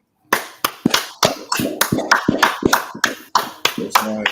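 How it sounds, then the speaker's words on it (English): Small group in a scripture class clapping in a room: sharp, close hand claps, first a few separate ones, then a quicker uneven run of claps, loud and dry, with no one speaking over them. "Let's clap it up."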